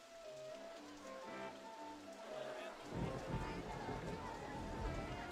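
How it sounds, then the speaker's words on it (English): Rain falls in the RollerCoaster Tycoon game, a steady wash of patter that swells louder partway through, with music or tones playing earlier over it. "Again, it's raining in the desert."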